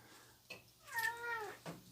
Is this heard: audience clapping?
no